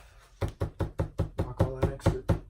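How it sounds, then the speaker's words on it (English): A brant duck decoy tapped to knock off excess flocking, a rapid series of about ten sharp, hollow knocks at a steady rhythm, close and fairly loud, no voices. "Knock all that extra flocking off."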